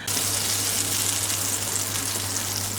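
A small spoonful of butter melts in a hot pan, giving a steady, close hiss and sizzle that stays even and fairly loud throughout, with no speech.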